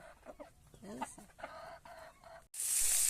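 A native country hen clucks after laying two eggs, giving several close, throaty calls over a couple of seconds before a loud, steady hiss abruptly takes over.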